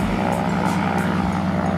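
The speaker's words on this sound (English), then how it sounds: "there's an aeroplane over here taking off" Propeller aeroplane taking off on Kawau Island, a loud continuous engine drone with a deep steady rumble and throbbing propeller tone, close and unbroken.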